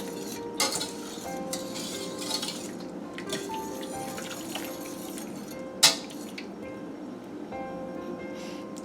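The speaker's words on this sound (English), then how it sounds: "Just going to whisk it a little bit here" A whisk stirs flour into étouffée in a pot, with light scraping and clinking of metal against the pot at an uneven pace and one sharper clank near the end, close by and without talk.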